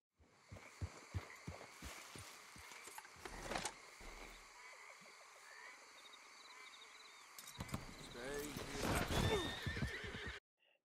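Horse hooves clip-clop in the Red Dead Redemption 2 video game, with a steady run of hoofbeats and a loud neigh, then snorting and whinnying near the end over a rumbling game background; a voice is briefly heard.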